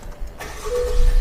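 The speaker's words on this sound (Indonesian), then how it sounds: "Coba kita hidupin mobilnya dengan kaca terbuka nih." A 2019 Honda Accord 1.5 engine cranks and catches with the windows open, then settles into a loud, steady idle close by.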